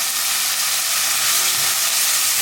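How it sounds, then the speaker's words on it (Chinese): Dried pickled mustard greens being stir-fried in a wok give off a loud, continuous bright sizzle with a hissing wash, steady throughout and close by, with no talking. "接着加入梅菜干，继续翻炒。"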